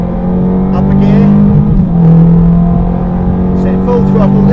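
A supercar accelerates hard on the Silverstone circuit, its engine note climbing loud and close inside the cabin, dipping briefly at a gear change before pulling again, with an instructor talking over it.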